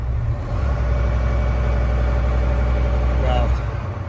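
Volvo VNL740 truck with D13 engine idling, a steady low rumbling drone close by, with a person talking over it.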